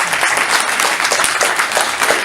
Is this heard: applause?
yes